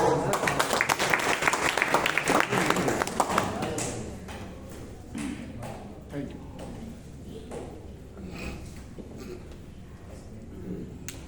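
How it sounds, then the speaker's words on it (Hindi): An audience at a gathering in Bhagalpur bursts into dense, loud applause that fades after a few seconds, giving way to someone speaking over a hall's faint background taps and shuffles. "आपके जोरदार तालियों के बीच"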